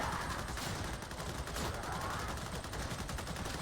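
Continuous rapid gunfire from shooting enemies in the video game Darktide, a dense unbroken fusillade of automatic shots lasting the whole stretch, loud and without speech.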